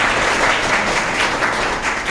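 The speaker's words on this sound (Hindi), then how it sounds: "एक जोरदार तालियां हो जाए।" A crowd claps loudly after a motivational communication-skills talk, a dense, steady burst of applause filling the whole moment with no speech.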